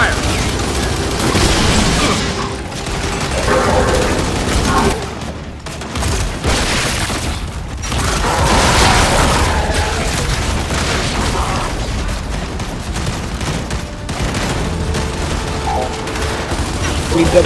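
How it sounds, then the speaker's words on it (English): Loud video-game combat from Gears of War 5: explosive-ammo gunfire and heavy booms in dense, continuous bursts, with short lulls between volleys of rattling shots and blasts. "That explosive ammo."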